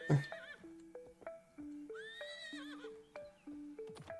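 A horse in a cowboy life simulator video game neighs and whinnies in repeated shrill, wavering calls over a few seconds, with a soft thud at the start.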